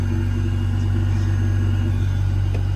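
A Honda Civic's engine rumbles loud and steady from close by, a constant deep drone with an even hum that neither rises nor falls.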